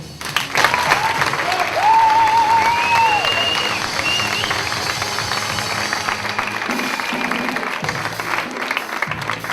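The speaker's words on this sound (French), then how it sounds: "donc un grand applaudissement pour le photographe" Audience at a French cultural event applauding for the photographer, a steady, loud crowd clapping that continues throughout, with a brief whistle-like tone riding over it early on.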